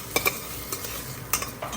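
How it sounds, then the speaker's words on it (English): Ginger garlic paste stirred in a frying pan, giving a soft continuous sizzle with a few light scraping strokes of a utensil against the pan, close and quiet. "add about 1 tablespoon of ginger garlic paste. And along with this, just mix it a little bit"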